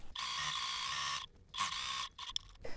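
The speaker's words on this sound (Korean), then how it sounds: "주름 잡는 거는 노루발 간격 정도로 해서 박음질을 해주겠습니다" Sewing machine running stitches along fabric to gather a ruffle for a toddler's dress, with a 1 cm seam allowance; a steady mechanical whir in two bursts separated by a short pause, close and alone without talk.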